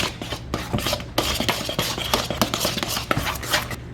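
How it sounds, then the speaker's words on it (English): Spoon stirring lemon juice in a bowl for a lemon icebox pie, producing close, busy scraping and clinking against the bowl in quick irregular strokes. "Then we're gonna add our lemon juice to our bowl. We're gonna stir that real good."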